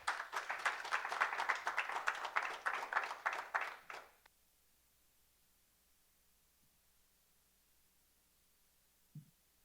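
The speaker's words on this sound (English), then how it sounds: "And a round of applause." An audience applauds for a speaker at a community college entrepreneurship press conference; dense clapping runs steadily for about four seconds and then stops abruptly, leaving near silence with a faint hum.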